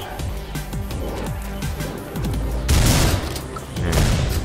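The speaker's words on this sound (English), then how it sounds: "Oh, he freaking sniped at me." Gunfire in The Undertaking of Butcher shooter game, a rapid fusillade of shots with booming impacts and a louder burst near the end, under game sound effects.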